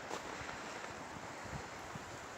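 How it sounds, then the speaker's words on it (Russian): Wind gusting outdoors in Yakutsk on an early April day, a steady broadband rushing roar buffeting the microphone, faint and continuous with no voices. "Сейчас поднялся ветер."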